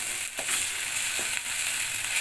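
Spice paste sizzling in oil for a Bengali rohu and katla fish curry, a close, steady hiss with a couple of soft stirring scrapes and no voices.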